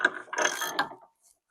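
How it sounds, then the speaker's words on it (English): A wrench ratchets on the sway bar bolt of a 1981 Mazda RX-7, a short close burst of clicking that stops abruptly, leaving near silence. "We're going to loosen our sway bar."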